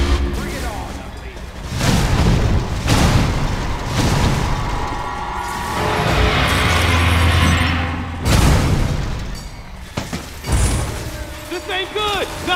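Booming blasts and weapon fire in the Metroid: Other M video game, several heavy impacts spread across the stretch with rumbling between them, mixed with shouted in-game voices.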